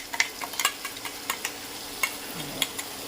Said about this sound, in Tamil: இது நல்லா ஸ்பூன் வச்சு வலிச்சு போட்ட வேண்டியதான்